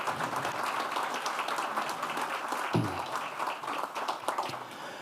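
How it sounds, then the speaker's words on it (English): Moderate audience applause at a college of osteopathic medicine announcement for Frank Kinney and former Congressman Dr. Dave Weldon, a continuous patter of many hands with a brief thump midway. "let's give them a round of applause"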